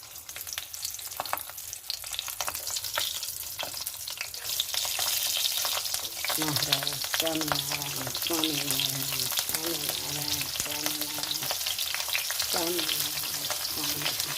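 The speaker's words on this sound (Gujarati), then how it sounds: "હવે આપણા મરચાં તળવા મૂકી દઈએ" Stuffed green chillies (fasting-style farali recipe) fry in hot oil with a steady, crackling sizzle and occasional popping, continuous throughout at moderate volume.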